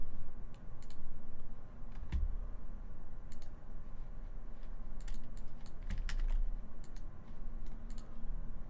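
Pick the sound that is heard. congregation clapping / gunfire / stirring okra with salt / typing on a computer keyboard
typing on a computer keyboard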